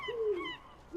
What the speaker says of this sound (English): They're seagull noises.